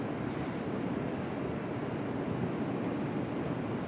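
Onions sizzle in hot oil in a home kitchen pan, a steady, dense, close-up hiss and crackle with no breaks and no talking.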